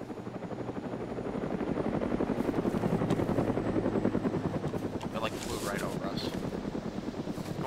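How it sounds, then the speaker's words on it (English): Helicopter flying overhead in the Arma game mode Takistan Life, a steady loud rotor chop throughout, with faint wind and a voice briefly talking over it. "Chopper."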